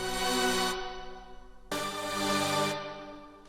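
A rich, buzzy synth lead holds two long notes through a spring reverb, a resonant, ringing reverb that lingers and blooms around each tone.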